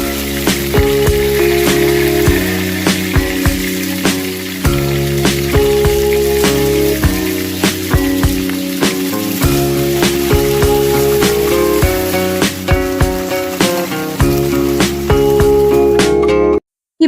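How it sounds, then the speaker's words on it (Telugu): Green chillies frying in oil in a pan, a loud continuous sizzle with crackling pops and occasional stirring clinks, steady throughout and heard on its own with no talking. "అందులో తగినంత నూనె పోసుకొని పచ్చిమిరపకాయల్ని వేయించుకోవాలి."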